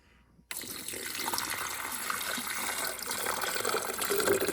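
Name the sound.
pouring water into a coffee maker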